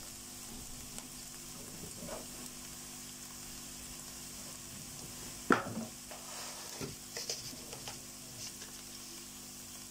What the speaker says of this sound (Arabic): واقلب كده في البصله